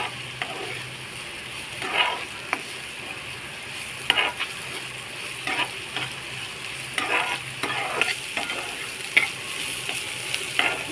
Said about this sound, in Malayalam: നല്ലോണം ഫ്രൈ ആയി വരുന്നുണ്ട്